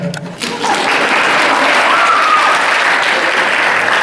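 A stand-up comedy audience breaks into loud applause that swells quickly and holds steady, with a brief voice just before the clapping starts.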